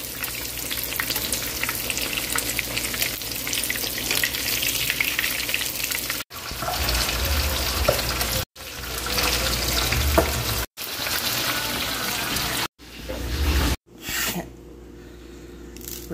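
Food frying in a pan over an open fire outdoors, a loud continuous hiss and crackle that breaks off abruptly several times and grows quieter near the end.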